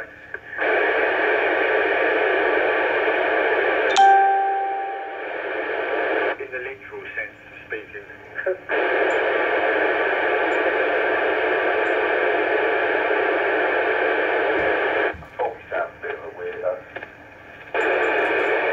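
HF radio receiver with a QRM eliminator switched on gives loud, steady hissing static that drops out and returns in several abrupt breaks, with a brief tone and crackles between stretches.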